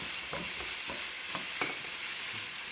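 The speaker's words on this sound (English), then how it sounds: "Now we got a good shot of that so we can see how our vegetables are sauteing." Fresh vegetables with garlic sauteing in a pan, giving a steady close hiss of sizzling oil with a few soft stirring scrapes scattered through.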